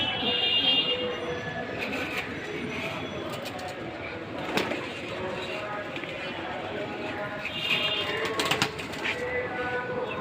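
Pigeons in a loft coo and rustle, with soft repeated cooing and occasional wing flutters and clatter beneath someone talking nearby.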